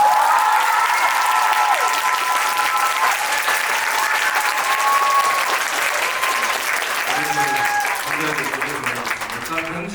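Sustained applause from an audience at a Korean film screening Q&A, dense and loud clapping throughout, with voices audible beneath it.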